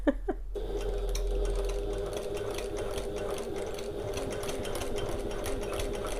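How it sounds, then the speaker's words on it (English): A domestic sewing machine stitches fabric to hold D-rings in place, opening with a few quick taps and then a steady, fast, close-up whirring chatter throughout. "So I'm just sewing right at the end there to keep those in place."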